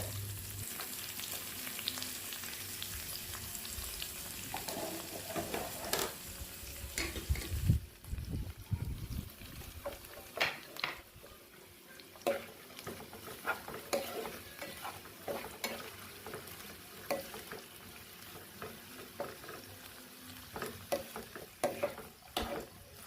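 Ginger, garlic, green chillies, rampe and curry leaves sizzling in hot oil in a pan for a Sri Lankan cauliflower dish, with a steady quiet fry and repeated close stirring scrapes and clicks throughout.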